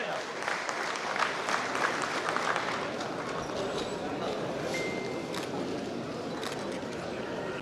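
An audience at an All India Mushaira poetry gathering applauds loudly, a dense and continuous roar of clapping that holds steady throughout, with a voice faintly audible beneath.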